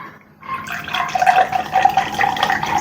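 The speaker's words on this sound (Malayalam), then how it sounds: "കുറച്ചിതിലോട്ട് ഒഴിക്കുകയാണ്." Homemade beetroot juice pours steadily into a glass from a jug, a continuous close liquid trickle and gurgle that begins after a brief quiet moment and carries on evenly with no voices.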